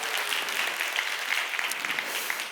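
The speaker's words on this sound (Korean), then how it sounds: "다시 한번 감사의 박수하겠습니다." Audience applause at a church youth worship service, a steady patter of clapping from a room of people, sustained at even level throughout.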